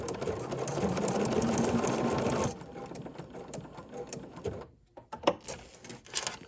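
A sewing machine stitches a holly piece and Velcro together in a fast continuous mechanical whir for a couple of seconds, then stops, followed by faint clicks and fabric handling nearby.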